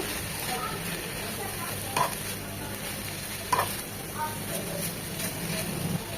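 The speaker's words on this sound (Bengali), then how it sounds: "সব কিছু খুব ভালোভাবে নেড়ে চেড়ে মিশিয়ে নেব" Chicken with soy sauce is stirred and mixed in a pan over a soft, steady sizzle, with occasional light scrapes and taps of the spoon against the pan.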